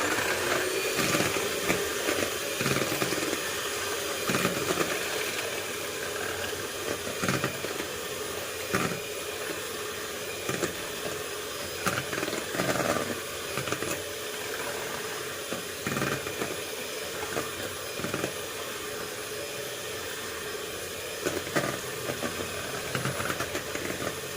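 A spoonful of flour is beaten into cake batter for a whipped cream cake, making a steady whirring hum with faint regular pulses that runs continuously without talk.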